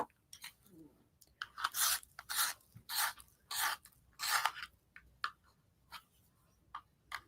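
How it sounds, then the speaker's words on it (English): A pastel pencil is sharpened up close in bursts of crunchy grinding that come in short rhythmic pulses and then thin out into lighter, sparser scrapes and ticks. "And I got to sharpen."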